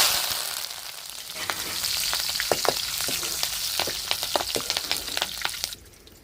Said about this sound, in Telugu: కరివేపాకు పచ్చిమిర్చి ఫ్రై చేసేసుకుందాం